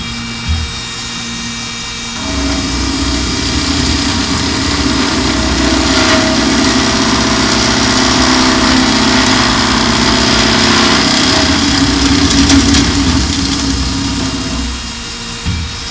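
A Kaltenbach KKS400E saw runs while cutting tube with coolant applied to the blade, a steady loud mechanical hum that rises as the cut begins and holds evenly before tapering off at the end.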